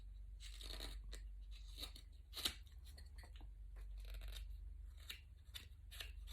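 Knife shaving wood while carving a decoy head: a series of close, faint crisp slicing scrapes in irregular strokes over a low steady hum.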